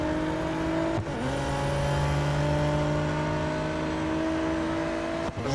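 A race car in the video game Real Racing 3 holds a steady, droning engine note at speed, loud and continuous with brief dips as it shifts, and no voices are heard.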